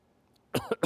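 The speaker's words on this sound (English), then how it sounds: "I can't get rid of this cough." Three quick, close coughs in a row after a moment of near silence.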